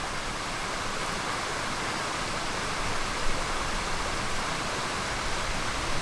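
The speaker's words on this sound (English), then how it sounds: "And we've got the weir in front of us." Water pours over a river weir on a Peak District walk, a continuous, even rushing hiss that stays full and steady from start to finish with no voices.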